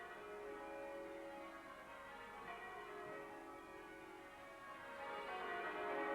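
Church bells of St Mary's in Sydney, a set of 14, ring a date touch of changes in a continuous, overlapping peal, heard faint and distant for the 1988 Bicentennial.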